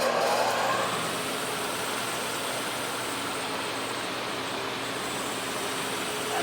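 A milling machine skims metal right across the top of a vise, giving a dense, steady roar with a whining cutting tone, loud and continuous for several seconds.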